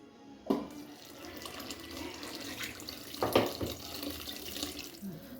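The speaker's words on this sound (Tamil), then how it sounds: "புளி தண்ணி அதை நம்ம போட்டுக்கலாம்" Tamarind water is poured into a pot of meen kuzhambu, a South Indian fish curry, giving a soft, close liquid trickle with a couple of brief splashy spikes and no talking.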